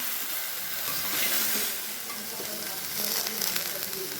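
Malabar spinach fruit frying in a pan as it is stirred, giving a steady, close sizzle and hiss that swells and eases slightly, with no voices.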